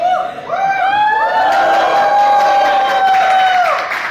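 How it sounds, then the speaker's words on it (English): An audience at a Toastmasters club meeting cheers loudly, with a crowd of overlapping shouts and whoops rising together, some clapping mixed in, continuous for about four seconds and close. "So should we cheer loudly?"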